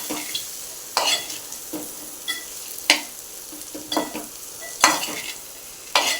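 A spoon stirs ivy gourd curry in a hot pan with about eight sharp scraping strokes spaced roughly a second apart, each over a continuous light sizzle, close and fairly loud.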